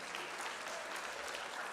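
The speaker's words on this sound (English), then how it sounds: "Let's give a round of applause." Audience applause at a boys' brigade awards day, a steady dense wash of many hands clapping, moderately loud and continuous throughout with no pause.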